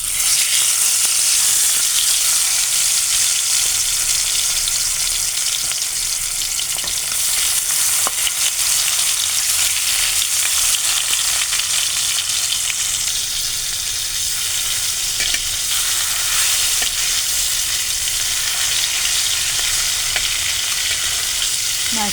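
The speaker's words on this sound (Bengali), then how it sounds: "এটাকে এখন আমি ভেজে নেব।" Hilsa fish pieces rubbed with salt, turmeric and chili powder fry in hot oil, making a loud, dense, continuous sizzle that stays close and even throughout.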